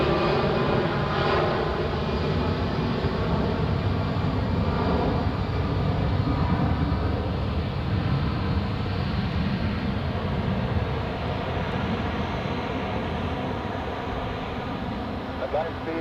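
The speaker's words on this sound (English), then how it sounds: "the next departure on runway 28, which is an EasyJet" An EasyJet Airbus A319 departs runway 28 at Zurich with a continuous broad jet engine roar, loud and steady, with a voice talking over it.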